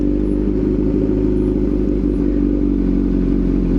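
A Kawasaki Z900 motorcycle engine idles loudly after starting, a steady, dense mechanical drone with constant low rumble and faint clatter, close and continuous without talk.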